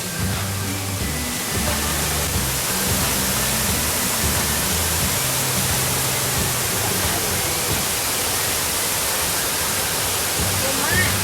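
Sapan waterfall at Khun Nan, Thailand, a steady loud rush of falling water filling the whole scene, with someone talking over it in the opening seconds.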